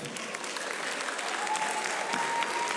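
Audience applause for a legendary actor at a Nollywood comedy show, a steady dense clapping from a large crowd that holds loud and unbroken throughout.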